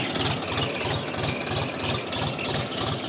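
A DTZ 354U tractor engine runs steadily while pulling a transporter potato digger, a loud close diesel drone with a regular throbbing pulse and mechanical clatter, no voices.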